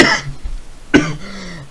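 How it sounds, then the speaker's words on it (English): Two sharp coughs, the first at the very start and the second about a second later, each a short rough burst, close to the listener, with a quiet lull between them. "Okay, that was a one-time cough."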